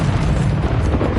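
A Confringo spell blast in Hogwarts Legacy lands as a loud, deep booming burst, a heavy rumbling explosion that fills the whole moment without a break.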